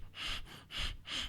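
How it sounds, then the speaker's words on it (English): Heavy breathing from a played recording, three loud, rhythmic breathy huffs in quick succession, close and harsh, with no talk. "Is that her breathing like that?"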